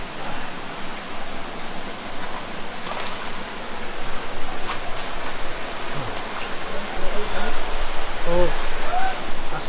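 Rushing water from the Dhuppani waterfall in Rangamati roars as a dense, steady wash that swells louder over time, with faint indistinct voices beneath it.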